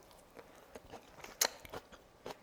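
Someone bites into and chews a mouthful of freshly mixed kimchi, giving a handful of soft, close, irregular crunches and wet chewing sounds with no talk.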